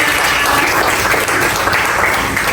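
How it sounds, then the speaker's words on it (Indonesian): Classroom applause from a group of students, a loud, continuous wash of clapping hands held close and steady from start to finish. "tepuk tangan buat semuanya"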